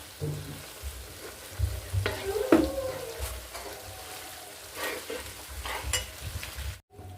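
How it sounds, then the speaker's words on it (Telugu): Ginger paste sizzles and fries in a pan, with a steady crackling hiss and occasional stirring scrapes, close up and with no talking. "మంచి అల్లం పేస్ట్ ఫ్రై అవ్వాలి."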